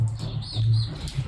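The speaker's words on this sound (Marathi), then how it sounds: "जस्ट लगेच चिमण्या ह्याच्यात घुसल्या." House sparrows chirp in brief, faint bursts over a low background hum, with a few short tweets in just over a second.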